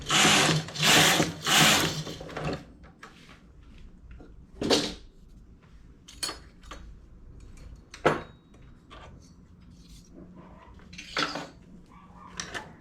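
A hand-operated knitting machine working rows of stockinette stitch, with bursts of sliding carriage noise followed by scattered clacks, clicks and rattles of the mechanism at an irregular pace, close by with no talk.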